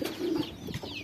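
A pigeon in a loft gives a short, low, throaty coo, close by and alone, with faint chirps of other birds in the background.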